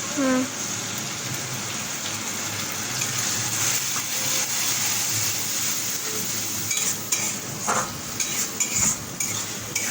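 Steady sizzling of fried onions in a hot pan as spices are added, with a spoon scraping and clinking against the metal now and then toward the end.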